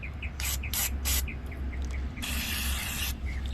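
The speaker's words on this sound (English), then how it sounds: "If you can see, when I put it in this hole, it sprays out the side." Carburetor cleaner sprays through a hole in a 2-stroke carburetor: three quick hissing bursts, then a longer continuous aerosol spray of almost a second, with soft chirps and a low hum behind.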